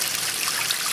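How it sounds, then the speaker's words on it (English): Fountain pump stirring the surface of a small duckweed pond, a continuous soft splashing and trickling of water heard close up and alone. "a fountain pump to keep the water aerated, and it does cause some surface motion"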